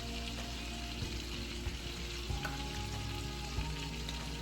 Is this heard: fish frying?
yes